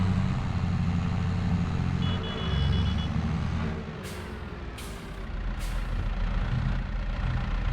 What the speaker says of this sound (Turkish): Hele traktörün sesini hissedelim değil mi?